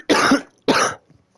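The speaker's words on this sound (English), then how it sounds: "Oh my God, this cough." Two harsh, close coughs follow each other about half a second apart, each rough and breathy, ending with faint throat noises.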